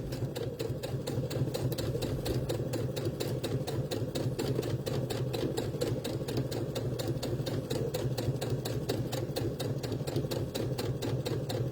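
A sewing machine stitching around a circle of fabric hums and chatters in a fast, even rhythm, steady and close for the whole stretch, with no voices over it.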